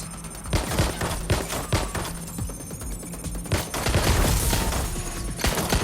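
Dense gunfire in Watch Dogs: Legion, overlapping rapid shots and bursts crackling continuously at close range, with busy action noise throughout.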